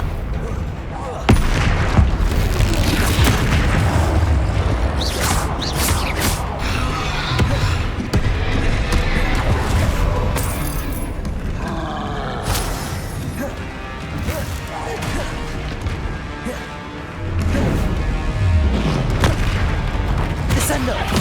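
Heavy blasts and crashing booms from the Confringo spell in Hogwarts Legacy burst repeatedly through a loud fight against a troll, layered with spoken incantations and game music.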